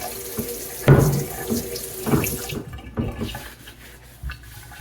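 A butternut squash is washed under a running sink tap, with water splashing and gurgling unevenly against the skin in close, loud spurts that fade toward the end.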